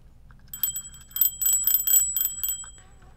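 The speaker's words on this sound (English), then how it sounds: "I'm not going to ring the little victory bell because I have it." A small handheld victory bell rings in several quick bursts of bright metallic dings, fairly quiet and close, with a faint background hum and no talking.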